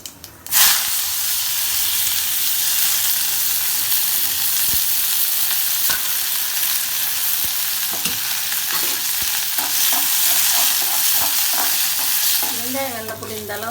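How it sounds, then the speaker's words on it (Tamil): Cumin, onion and garlic sautéing in a hot pan for oats porridge give a loud, continuous sizzle for over ten seconds, broken by light clicks of stirring. "சீரகம், வெங்காயம், வெள்ளைப்பூடு போட்டு வதக்கி"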